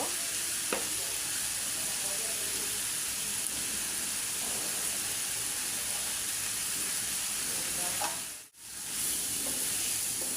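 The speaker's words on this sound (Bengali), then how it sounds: "এখন শুধু খালি হলুদ দিয়ে লবণ দিয়ে নাড়া দিব" Potatoes and yardlong beans fry in oil with turmeric and salt, making a loud, even, close sizzle that runs almost unbroken, with a faint scrape or two and one brief dip.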